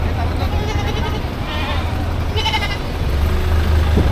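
Goats bleat in repeated wavering cries at a livestock trading market in the Philippines, mixed into a busy crowd murmur and a low idling engine hum, with people talking nearby.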